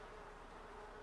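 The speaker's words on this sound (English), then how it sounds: "Bees." Bees swarming in The Sims 4 give a steady, dense buzz that holds at an even level with no talk over it.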